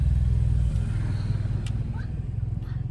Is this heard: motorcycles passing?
yes